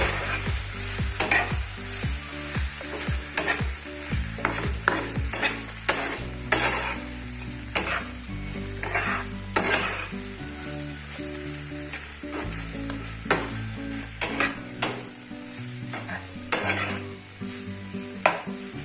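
Egg Maggi masala being mixed in a hot pan gives a constant sizzle and frying hiss with repeated scraping and knocking strokes of a spatula against the pan, close and unbroken, with no voices.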